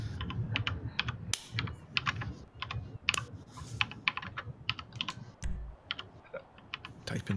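Steady typing on a computer keyboard during a live stream, with quick irregular key clicks near and clear over a low background hum.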